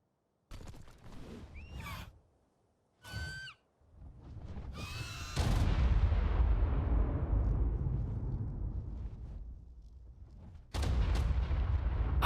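Explosions in the video game Ark: short bursts, then one big deep blast that rumbles and slowly fades over several seconds, followed by another loud boom, with no talk.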